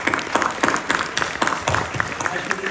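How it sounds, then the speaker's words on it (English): Audience at a Kashmiri Pandit panel discussion applauding the panelists: a brief, steady patter of many hands clapping in a room, fairly close and without pause. "let us give a thunderous round of applause to all the panelists here"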